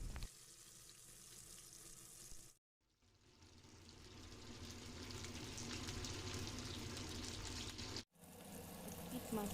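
Pomfret fish, marinated tandoori-style, fries in hot oil in a wok with a steady, dense sizzle. The sizzle is close and continuous, broken by two brief silent cuts.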